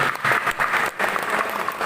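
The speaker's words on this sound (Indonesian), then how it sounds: "tepuk tangan untuk alumni kita itu" Applause for a former student at an Indonesian law faculty student community-service event, dense steady clapping from an audience lasting about two seconds.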